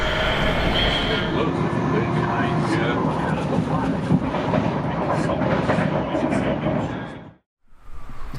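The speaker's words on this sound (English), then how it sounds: "I'm just waiting for the train to get to Sheffield" Train travelling to Sheffield, heard from inside as a continuous rumbling roar with rattling and faint squeals, fairly loud and steady before cutting out abruptly near the end.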